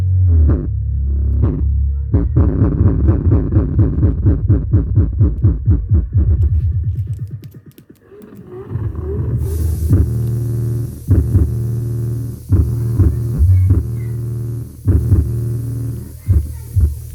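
Music with heavy bass plays through a Microlab sound box speaker, a throbbing low-end rhythm that is loud and close, dipping briefly midway before resuming with sharper beats.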